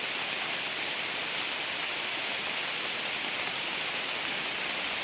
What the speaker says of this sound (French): Ah yeah, il pleut.